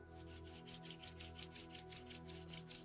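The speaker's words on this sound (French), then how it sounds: "Frotte tes mains entre elles" Two palms rub briskly together, a faint, soft, rhythmic swishing that keeps a quick, even back-and-forth pace throughout, with no talking.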